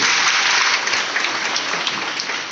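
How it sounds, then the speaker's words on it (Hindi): Loud audience applause at a business leadership event, a dense, steady roar of many hands clapping together, close and sustained with no voices over it. "एक जोरदार ताली हो जाए उनके लिए"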